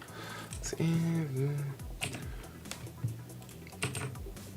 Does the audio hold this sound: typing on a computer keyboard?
yes